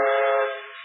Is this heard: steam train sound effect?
yes